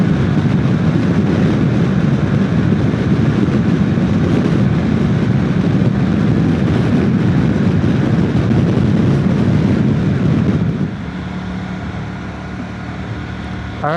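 Wind buffets a helmet while riding a Honda NT1100 at about 75 mph behind a Puig windshield, a loud constant roar that drops noticeably and turns smoother near the end as the screen position changes.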